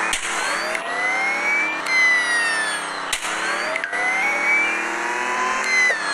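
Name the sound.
stolen car driving off in the video game Dude Theft Wars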